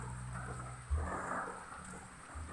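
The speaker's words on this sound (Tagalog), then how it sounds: "wala nang tigil na ulan dito sa Bicol region" A soft wash of heavy rain hisses steadily in the Bicol region, Mercedes, Camarines Norte, while a low rumble of thunder rolls in partway through, distant and muffled.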